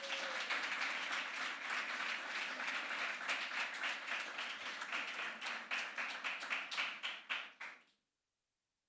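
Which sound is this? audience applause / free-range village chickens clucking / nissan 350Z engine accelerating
audience applause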